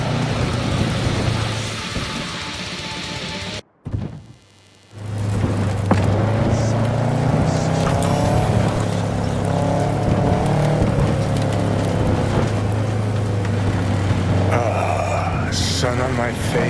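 Car engine while driving in Cyberpunk 2077, a steady droning hum with rushing road and wind noise, cut by a brief near-silent gap early on, then continuing loud with voices over it.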